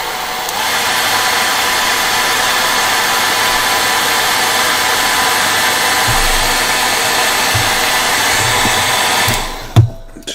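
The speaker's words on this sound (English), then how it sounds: "give that a little hairdryer" Hair dryer blows steadily and close on freshly painted miniatures, a continuous airy roar with small knocks, cutting off near the end.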